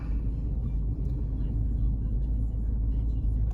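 A car slowly pulls up and parks in a lot lined with rows of cars, stopping behind a BMW; a steady low engine rumble runs throughout at close range.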